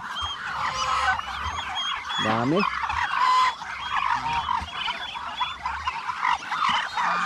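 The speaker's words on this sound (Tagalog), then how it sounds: "Yung mga alaga natin pabo, pato, kahit palagi pa tayo nagkatay" Pet turkeys and ducks kept at a farm hut call out loudly amid a dense chorus of poultry, with a rising gobble-like burst standing out near the middle and a brief spoken word.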